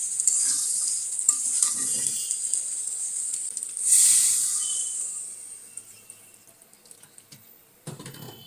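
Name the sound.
chicken and potatoes being stir-fried in a pan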